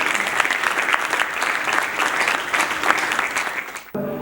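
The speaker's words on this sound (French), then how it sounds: "nous allons applaudir pour madame" An audience at a women's conference applauds with steady, dense clapping that stays strong for about four seconds, then cuts off abruptly.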